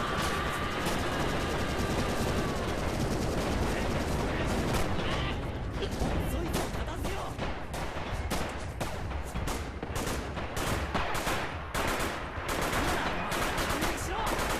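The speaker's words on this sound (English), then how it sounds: "the commander has just called in some artillery" Battle in the WWII shooter game Rising Storm: artillery barrages and machine gun fire crack and rumble continuously, with dense rapid bursts and heavy booms throughout, loud and chaotic.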